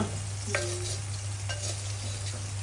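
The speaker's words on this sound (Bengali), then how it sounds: "তারপরে আমরা এই যে পেঁয়াজ দিয়ে ভাজা হইতে আছে" Onions frying in a kadai on a home stove, a steady broadband sizzle with occasional stirring scrapes and a constant low hum underneath, no talking.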